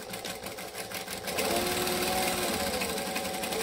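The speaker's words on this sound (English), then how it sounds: "Now I am gonna back stitch." A sewing machine stitches back and forth across fabric, running with a close, steady mechanical whir that briefly pauses and then picks up again, louder and faster, as it backstitches.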